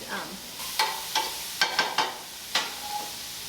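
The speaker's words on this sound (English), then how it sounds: "While that's sauteing" Vegetables sauteing in a pan with a soft continuous sizzle, broken by several sharp clicks and scrapes of a utensil stirring, close and without talk.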